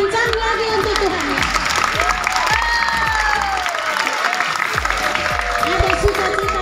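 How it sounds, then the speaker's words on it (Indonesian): A school congregation at a worship service opening in Manokwari claps loudly and continuously, mixed with cheers and children's voices, over a steady low rhythmic thump. "Oke, tepuk tangan untuk Tuhan Yesus."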